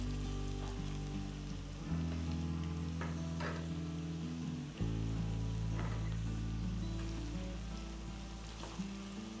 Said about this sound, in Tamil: இந்த தோலை நம்ம எண்ணெயில் போட்ட உடனே நல்லா இந்த மாதிரி டீப் ஃப்ரை பண்ணிடணும்.